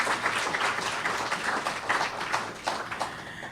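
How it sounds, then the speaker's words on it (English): Guests at the O.T.I 50th anniversary cocktail event give a round of applause, a soft, scattered patter of many hands at moderate distance that rises and falls unevenly, with no speech over it. "Could we give them another round of applause"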